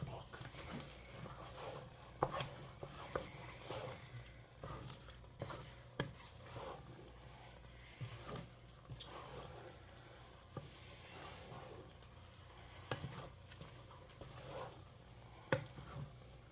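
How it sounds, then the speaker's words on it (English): Tomato risotto is stirred in a pan with a soft, steady sizzle and patter, and a spoon scrapes and taps the pan now and then, all fairly quiet and close with no talk. "we're going to continue stirring this until it's completely finished"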